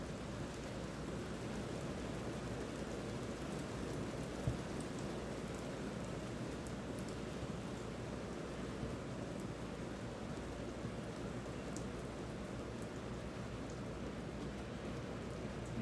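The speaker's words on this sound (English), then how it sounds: "Rain is really coming down right now." Heavy rain pouring steadily during a soccer match, a dense unbroken hiss with no let-up and no voices.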